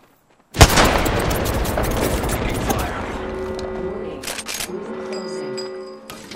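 Frag grenade exploding in Apex Legends, one sudden loud boom followed by a long rumbling decay, with a few faint gunshots and game tones trailing after.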